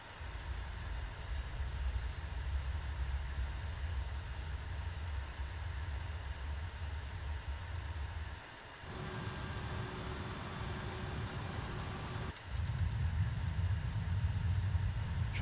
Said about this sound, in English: We'll start engine number 2 first.